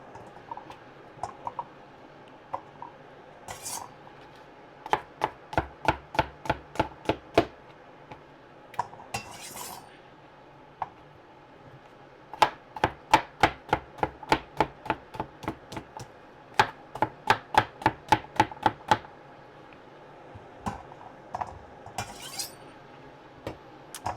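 Knife chopping zucchini into half-moon pieces on a cutting board, with steady rapid runs of crisp close taps separated by short pauses and scattered single cuts.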